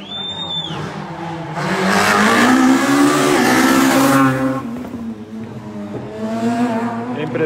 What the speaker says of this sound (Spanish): Impresionante el paso del vehículo, aunque solo sea por lo bonito que es y lo bien que suena.